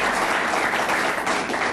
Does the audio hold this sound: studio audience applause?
yes